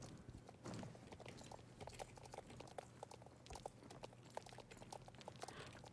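Horse hooves clip-clop in a video game quest to track down a runaway horse, a soft steady trotting rhythm playing quietly with no talk.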